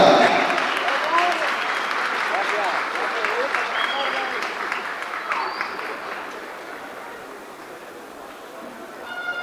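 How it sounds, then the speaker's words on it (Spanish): Crowd applause and cheering fill a stadium at a baseball final between Algodoneros de Delicias and Manzaneros de Cuauhtémoc, loud at first and slowly easing, with voices mixed in. "Bueno, aplauso."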